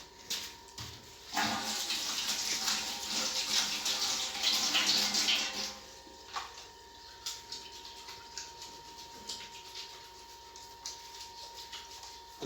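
Tap water runs steadily for a few seconds while hands are washed, then cuts off, leaving faint scattered splashes and drips close by.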